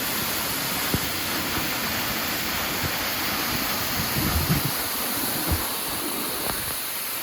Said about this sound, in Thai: นี่ก็คือน้ำตกบ้านในหัวตำบลจันเพ็ญของ